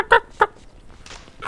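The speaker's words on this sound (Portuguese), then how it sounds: "Parece uma galinha." Chicken clucks in GTA V: a couple of short, bright clucking calls near the start, then scattered softer noises and a further squawk at the end, with no talk over them.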